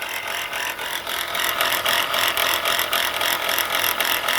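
A running engine with a worn, failing alternator bearing gives off a fast, metallic rattling chatter, close and steady, with a rhythmic pulsing through the noise.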